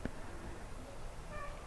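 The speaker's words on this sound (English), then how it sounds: "Oh, Kitty is back" A cat meows faintly toward the end, one short, soft call that sounds a little distant over a low indoor background hum.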